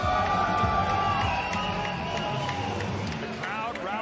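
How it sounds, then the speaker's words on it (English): Crowd noise rallies behind MMA fighter Pierre "the Monkey" Thivierge between rounds at a Samourai MMA event, a steady dense roar of voices with whoops, carrying continuously under a commentator's talk. "the crowd rallying behind their own Pierre the Monkey Thivierge"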